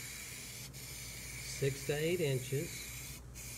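A spray gun applies a lacquer finish with a steady broad hiss running throughout, pausing briefly twice, while someone speaks over it near the middle.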